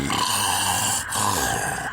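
A voice imitates snoring with a sustained, raspy, grunting rattle that holds for most of the moment and breaks briefly in the middle, loud and close.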